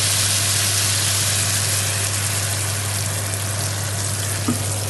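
Cream poured into a pan of sizzling mushrooms and shallots, a loud, dense, continuous hiss and bubbling close up that holds steady throughout, with no talking.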